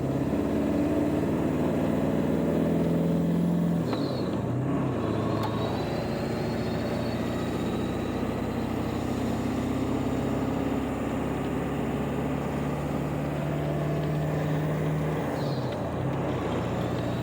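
A 7.3 Powerstroke diesel truck hauling a heavy load climbs a hill in fifth gear, its engine droning loud and steady throughout. No one speaks.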